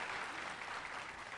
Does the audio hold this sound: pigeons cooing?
no